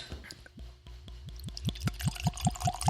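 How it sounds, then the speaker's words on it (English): Jefferson's Tropics bourbon glugs from the bottle in a steady rhythmic series of gurgles that speed up and grow louder, close by with no talk. "let's hear the pour"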